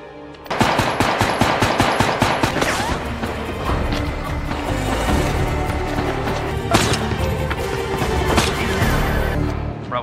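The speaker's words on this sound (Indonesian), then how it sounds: "tim membuat tembakan beruntun ke arah sniper itu agar Ray mendapatkan posisi terbaik di atas" Rapid bursts of automatic gunfire from a film battle scene, a team firing in sustained volleys at a sniper on a rooftop, loud and dense with sharp cracks and impacts throughout.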